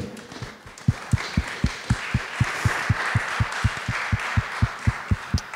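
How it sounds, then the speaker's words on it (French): An audience in a hall at a cancer care event of the Fondation Cognacq-Jay claps in steady unison, a fast even beat of thuds over a bed of scattered clapping. "Effectivement, ça mérite tout à fait les applaudissements."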